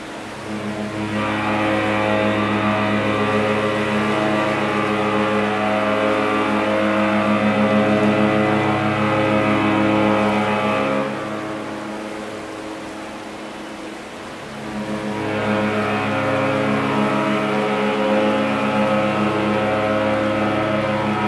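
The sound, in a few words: AIDAdiva cruise ship's horn at sail away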